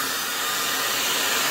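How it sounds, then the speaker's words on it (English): A blow dryer runs steadily and close by, a broad, even airy roar that holds without a break. "It's a blow dryer."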